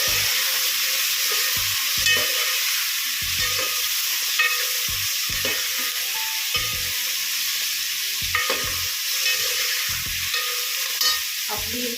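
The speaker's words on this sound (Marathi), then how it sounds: "आता आपण पुन्हा एकदा परतून घेऊया" Paneer masala mixture sautéing in a pan, a continuous loud sizzle broken by repeated scraping stirs of a spoon against the pan at an irregular rhythm, with no talking.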